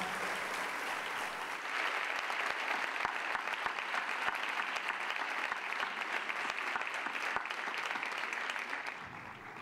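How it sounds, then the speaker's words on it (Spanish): An audience applauds at a sports awards ceremony in Lugo, with sustained, even clapping from a large hall that carries on for several seconds before easing slightly at the end. "Ese aplauso tan merecido para la mesa."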